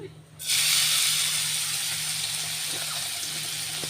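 Thinly sliced onion drops into a hot pan and bursts into a loud, broad sizzle that holds steady and close, easing only slightly as it settles.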